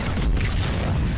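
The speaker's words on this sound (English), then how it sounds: "We're in the middle of a firefight right now." Dense, loud bursts of gunfire and booming explosions roll through a firefight in the video game Mass Effect 3, a constant battle rumble with no clear pauses.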